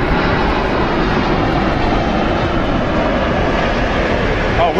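General aviation aircraft near an airport with airliner traffic, a steady droning engine roar with wind-like noise, moderately loud and continuous throughout.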